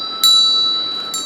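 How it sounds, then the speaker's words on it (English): A small real metal handheld bell is struck twice, about a second apart. Each strike gives a bright, close ring that hangs and slowly fades between hits. "Well, this is a real bell."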